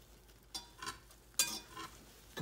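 Melted mixture for Rice Krispies treats being stirred in a pot, a few soft scraping, sticky strokes spaced apart, close and quiet with no talk.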